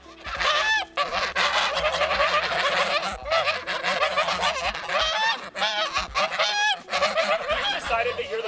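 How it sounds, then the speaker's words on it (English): Geese honk loudly and nearly nonstop at close range, several birds calling over one another in harsh overlapping bursts. "the geese had to come over and give their opinions"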